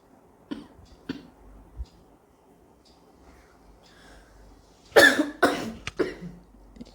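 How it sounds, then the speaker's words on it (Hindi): Two small throat sounds early on, then a burst of several loud, harsh coughs in quick succession near the end, close and otherwise quiet. "मुझे खांसी आ गया अचानक"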